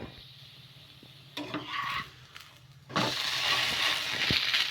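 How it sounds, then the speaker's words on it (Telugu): Wheat rava tiffin roasting on a low flame in a pan, with a steady sizzle that swells louder in bursts, joined by brief stirring and scraping clatter of the utensil. "ఇటు సైడ్ కూడా సిమ్లో పెట్టుకొని కాల్చుకున్నాము"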